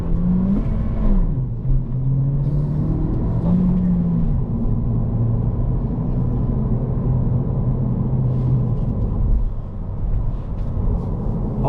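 A 2024 Honda Civic Si with a manual transmission drives along, a loud steady engine drone inside the cabin with pitch rising and falling through revs and gear changes, no voices.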